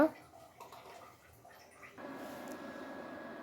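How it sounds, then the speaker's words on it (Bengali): Water draining from steamed cauliflower tipped into a sieve, a steady close trickle and patter that starts after a brief splash and runs on evenly. "আমি এই যে চালুনে ঢেলে নিলাম পানিগুলো ঝরানোর জন্য"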